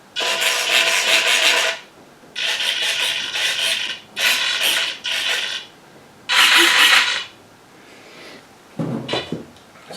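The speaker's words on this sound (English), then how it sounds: "what I'm going to do now is to mount these screws for the wings so they don't fall off in the air" Screws being driven by hand into the wings of an RC plane, a fast Rare Bear model, heard as several short close scraping, rasping bursts of turning metal separated by brief pauses, with no talk.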